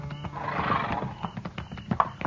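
Horses neighing and whinnying near a hunters' camp at dusk in a Western radio drama, a loud drawn-out whinny followed by snorts and shorter calls, close and with no talk over them.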